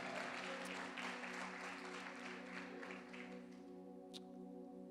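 A church congregation applauds steadily throughout, a dense wash of clapping that fades slightly toward the end, with a sustained musical tone underneath.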